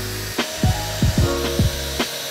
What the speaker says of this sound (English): the next step is to drill the rest of the holes